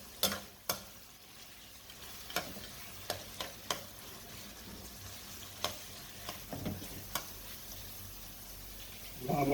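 Vegetables fry and brown in a pan with a low, continuous sizzle, punctuated by sharp clicks and taps of a utensil against the pan at irregular intervals, close and fairly quiet.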